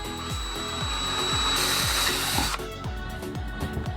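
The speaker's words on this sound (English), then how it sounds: "whenever you're drilling into carbon fiber, you always want to make sure that you have some kind of mask on" A power drill bites slowly into carbon fiber, giving a loud, close, rhythmic ratcheting chatter with a shrill high whine that cuts off partway through.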